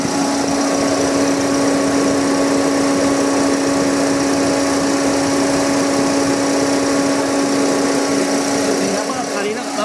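A used car's engine idles steadily during an engine and cooling system inspection, producing a constant even hum with a faint whine, close and continuous.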